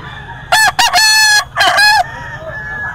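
A rooster at a Philippine poultry market with around 800 birds gives two loud, close crows, the first broken into short bursts and the second one long sustained call, over a low background hum.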